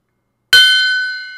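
A small metal gong, freshly unpacked from a gift box, is struck once after a short silence, giving a sharp bright hit that rings on with a sustained, slowly fading metallic shimmer.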